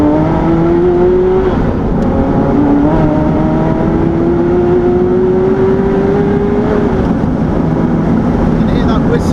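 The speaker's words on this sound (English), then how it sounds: "You can hear that whistle though all the time." A Ferrari F40 drives along, its engine holding a loud, steady drone with a thin whistle rising gradually above it, while people talk over the cabin noise.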